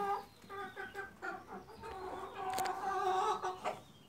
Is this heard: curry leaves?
no